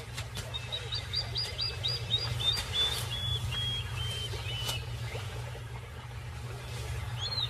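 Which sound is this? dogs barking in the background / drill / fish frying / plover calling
plover calling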